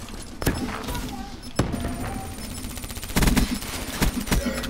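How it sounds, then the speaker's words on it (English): Gunshots fired through a wall in a first-person shooter, a handful of sharp cracks spread across the moment, including a quick cluster near the end, over a busy game backdrop while a voice talks. "I shot him through the wall"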